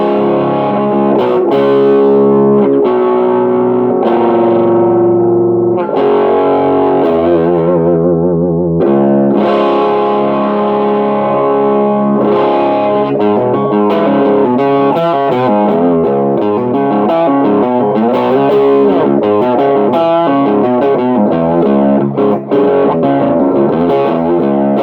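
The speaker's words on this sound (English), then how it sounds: "here's what a guitar in drop C sounds like" Electric guitar tuned to drop C, played heavily distorted with loud low chugging riffs and ringing chords, continuous and alone.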